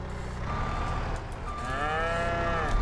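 Cattle mooing in the farming video game Farming Simulator 22, a few long drawn-out lowing calls over a steady engine rumble, with a vehicle's reversing beeps underneath.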